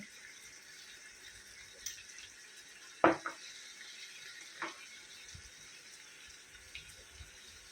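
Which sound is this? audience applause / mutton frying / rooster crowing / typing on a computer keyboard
mutton frying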